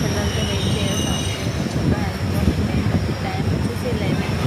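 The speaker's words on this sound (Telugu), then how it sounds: "ఈ ట్రైన్ అయితే స్టార్ట్ అయిపోయింది" A passenger train pulls away from a station platform: a steady low rumble of wheels on rails with faint squeals and a high whine, mixed with background chatter from people waiting nearby.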